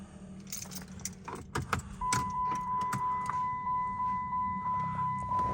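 Keys jangle and clink in a burst of metallic rattles, followed by a steady electronic chime pulsing repeatedly beside a faint engine hum from a car with a Flowmaster exhaust.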